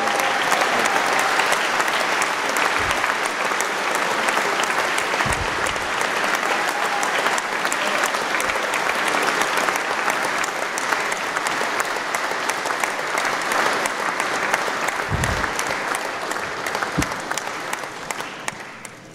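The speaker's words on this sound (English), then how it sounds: "you got to quit this clapping so much" A large audience bursts into sustained, loud applause for the Governor of West Virginia at a State of the State address, an unbroken wash of clapping that fades slightly toward the end.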